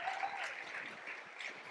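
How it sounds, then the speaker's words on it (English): Audience applause for the organizers and behind-the-scenes staff at a gathering on spiritual leadership, a steady, dense clapping from a crowd lasting throughout with no voices over it. "Can we give a round of applause to all the organizers and everybody working behind the scenes here?"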